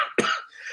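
A single sharp, raspy cough bursts out close by, followed by a brief throaty exhale.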